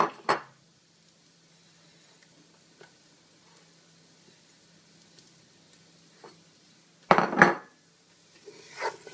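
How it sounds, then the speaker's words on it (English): Shallots and garlic are tipped into hot rapeseed oil in a pan, with a few scattered clatters of utensils and a louder burst of clattering and sizzling near the end, against quiet kitchen background. "I've got some rapeseed oil, which is heating up. I'm going to add to that the shallots and"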